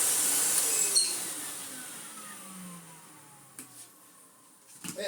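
A 2001 commercial Karcher K5200 vacuum cleaner motor whines as it winds down, the pitch sliding lower and fading, with a couple of brief knocks near the end.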